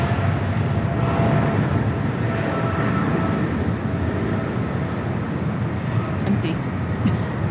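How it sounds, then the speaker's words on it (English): A brand new DHL Boeing 777 freighter departing LAX runway 25 left makes a continuous, heavy engine rumble that holds steady throughout, with a voice faintly present underneath. "taking off right now on 25 left. Right. It's a brand new 777 freighter heading off to Atlanta."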